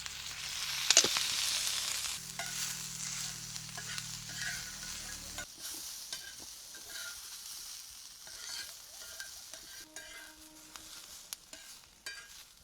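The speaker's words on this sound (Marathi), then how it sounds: "तेल टाकतो कांदा भुजायले." Onion frying in oil for a clay-pot handi mutton, a soft sizzle with a sharp burst at the start, a few scrapes of stirring and a low hum in places, fairly quiet and close.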